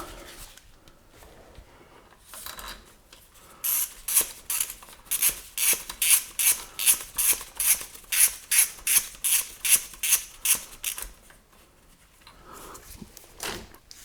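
Screws being fitted during a Haldex service on a Volvo XC70, a fast run of even ratcheting clicks from a hand tool, close and crisp, with quieter shuffling before and after.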